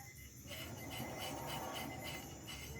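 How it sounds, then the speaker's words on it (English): On a 2006 Honda Fit DBA-GD1 with a CVT, the front brake rotor rubs lightly on the disc pad, making a soft continuous scraping hiss under a low rumble. "The only little scratching noise you're hearing is the rotor just rubbing on the disc pad."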